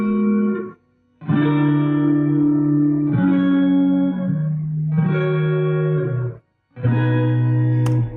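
A King Krule style production plays with plain reverb and no Valhalla Supermassive: sustained chordal tones in loud phrases, separated by two short silent gaps, with light echo trailing each phrase.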